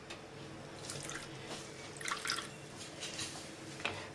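Water trickles and drips into a cauliflower mixture, soft splashing and dribbling with a few brighter drips, quiet and close, with no talking.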